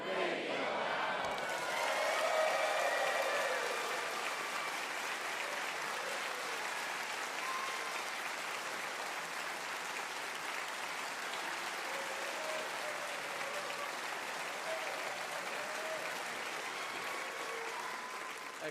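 Studio audience at a live old-time radio hour broadcast breaks into sustained applause on cue, a dense, loud wash of clapping with scattered cheers that holds steady for well over fifteen seconds.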